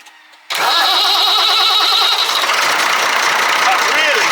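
A Ford TW25 tractor engine cranks and catches on a Topdon JS3000 jump booster, bursting in loud after a quiet start and settling into a steady, rough running roar up close, with voices under it.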